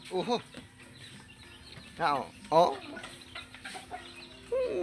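Large roosters cluck and squawk in short bursts nearby, several calls scattered over a quiet outdoor background.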